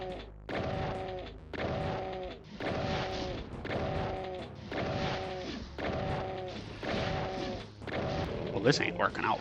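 Gunfire in Ultimate Doom, a regular series of about seven heavy blasts, each with a short tonal ring, evenly spaced and close, ending in a busier crash of impacts.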